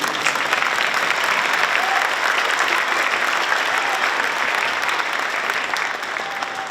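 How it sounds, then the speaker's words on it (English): Audience at a school district string festival in Somerset applauding: a full, steady roar of many hands clapping, sustained and loud throughout before easing slightly at the end. "A big round of applause for yourselves."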